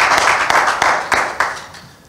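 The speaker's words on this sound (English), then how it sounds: "Give you another round of applause." A church congregation applauds a speaker, a dense, steady clapping from many hands with a few sharper claps standing out. It fades near the end and there is no talking over it.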